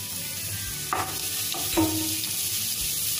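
Cumin seeds sizzle in hot oil in a pan, a faint steady hiss broken by a few short scraping stirs of a spoon.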